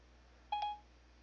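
A cell phone plays a quick pair of touch-tone dialing beeps as a number is called, clear and close over a quiet background hum.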